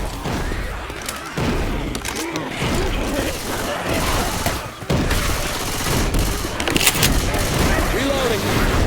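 Pistol fire in the zombie shooter game Left 4 Dead 2 crackles in dense, rapid bursts of sharp shots, loud and close, mixed with clattering game effects and busy background noise.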